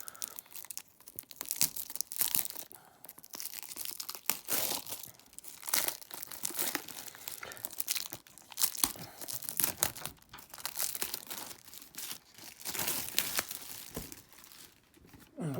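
Crinkling plastic and tearing wrap as a Leon Blu-ray deluxe edition package is unwrapped and opened, with continuous close rustling, crunching and ripping throughout and no talking.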